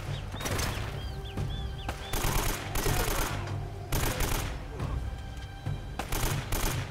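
Rapid bursts of AK rifle fire in the video game Uncharted, repeated volleys and sharp shots spread across the scene over a steady low rumble, with some background noise between bursts.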